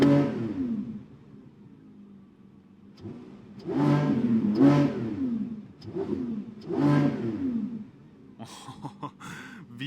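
A 2025 Lamborghini Revuelto V12 in Corsa mode, warmed up, revs three times in quick succession, each throttle blip rising to a loud, rich howl and dropping back to a burbling idle, heard close.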